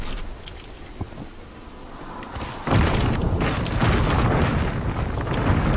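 Artillery explosions in a video game arrive as a sudden heavy rumbling boom that sets off a sustained roaring blast, lingering loudly after a quieter stretch with faint clicks and distant thumps.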